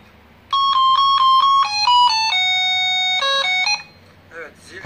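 An electronic door intercom buzzer for an apartment plays a loud, close sequence of clear melodic tones for about three seconds, then stops.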